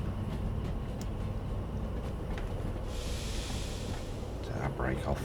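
A train rolling in Derail Valley gives a steady low rumble close by, with a hiss of air rising partway through and brief clatter near the end.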